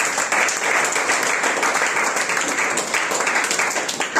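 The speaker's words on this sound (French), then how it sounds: "Est-ce que tu peux applaudir pour la gloire de Dieu?" A church congregation applauds steadily at a French-language prayer marathon, dense continuous clapping filling the room at close range with no break.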